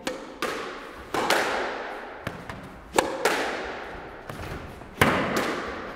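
Squash ball struck back and forth on an indoor court during a volley drill, sharp crisp smacks about once every second with echoing decay off the walls, moderately loud, no voices.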